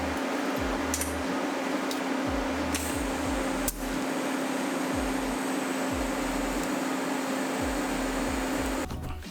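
TIG welding on the frame of a Turbo 660 lawn mower: a steady, close hissing buzz with a constant electrical hum that runs almost without a break, and a few soft low thumps underneath.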